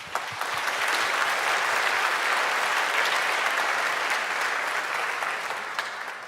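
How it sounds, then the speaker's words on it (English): Dense, steady applause from a conference audience in a small venue, loud and sustained throughout before tapering slightly at the end. "So big applause for Dave and Martina."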